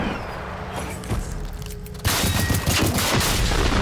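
Pistol shots ring out in the video game Generation Zero, a burst of loud sharp cracks mixed into a dense, noisy game soundscape that grows louder halfway through.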